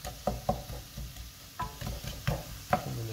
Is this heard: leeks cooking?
yes